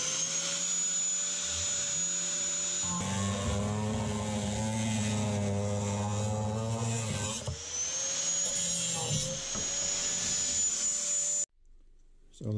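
A saw cuts a section off a chunk of steel in a machining shop, making a loud, steady mechanical whine with a heavier, rougher grinding stretch in the middle, then stopping near the end with no speech.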